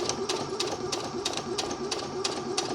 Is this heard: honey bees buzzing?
no